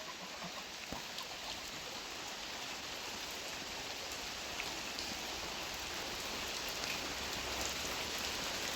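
Heavy rain pours steadily over a village, a dense, even hiss that holds without a break for several seconds, with no voices.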